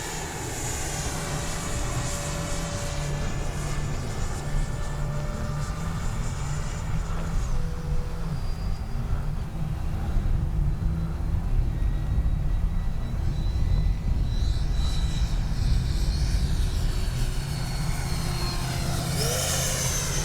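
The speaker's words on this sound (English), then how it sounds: "That's a good looking little jet right there." A Freewing 70mm Yak-130 RC jet flying with its electric ducted fan, a steady loud whine and rush that holds for about twenty seconds with slow pitch shifts as it passes, alone with no talk.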